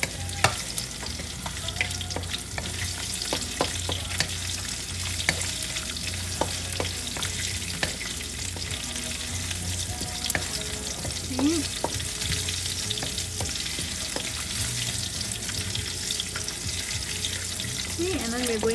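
Cumin seeds sizzle steadily in a hot pan for pepper chicken masala, a continuous close frying hiss with occasional stirring scrapes and no talk.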